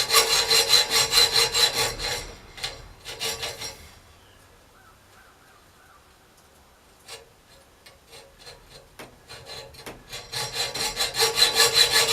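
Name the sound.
sawing heart-shaped hasp pieces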